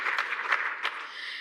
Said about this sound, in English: Please, another round of applause for Dr. Junaid Ahmad.